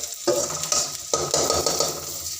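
Onions fry in mustard oil in a wok with cumin and mustard seeds, a close sizzle broken by scraping strokes of a stirring spoon against the metal.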